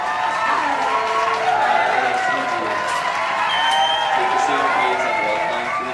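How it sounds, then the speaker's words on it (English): A crowd applauds and cheers continuously, a dense wash of clapping with a few whoops mixed in. "The second round of applause for Madame Fiastre."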